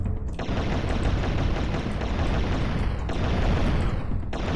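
Sustained rapid gunfire from an assault rifle in the video game Turok. The shots merge into a dense, loud, continuous roar with a couple of brief dips.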